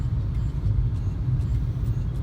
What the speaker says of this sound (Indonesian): Nah, ini udah macet.